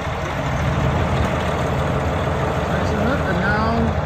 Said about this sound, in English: It's to be done by this large Caterpillar tractor